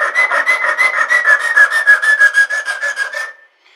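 A file rasps back and forth across a wooden tenon being shaped for a cabinet handle, a quick, even run of about twenty close strokes with a whistling ring that stops abruptly.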